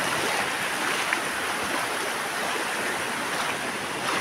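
Continuous broadband wash of sea water at a beach in Oropesa del Mar, Castellón, Spain, a steady, close hiss and rush with no distinct wave breaks and no voices.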